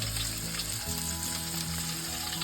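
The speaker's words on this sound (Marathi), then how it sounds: "पहिलंच लसूण टाकले तेलात" Garlic frying in hot oil, a steady dense sizzle with soft stirring scrapes underneath, close and continuous, no voices.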